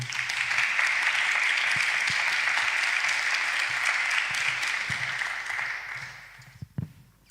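Sustained audience clapping at a scientific planning conference in Spanish, steady and full before thinning out near the end, where a few scattered claps and bumps remain.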